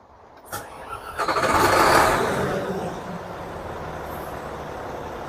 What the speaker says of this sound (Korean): 자 시동을 한번 걸어 보겠습니다